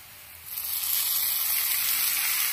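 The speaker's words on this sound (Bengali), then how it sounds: "দিয়ে চাউমিনের মধ্যে দিয়ে দিচ্ছি" Soy sauce thinned with water is poured into hakka chow mein frying with winter vegetables, and a quiet background jumps into a loud, steady hiss and sizzle that keeps going.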